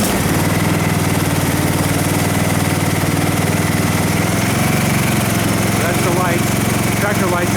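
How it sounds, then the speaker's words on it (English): A Cub Cadet lawn tractor engine runs outdoors at a steady, loud, close idle with an even low mechanical chug and constant vibration throughout. "I brought the tractor outside. I'm going to start it."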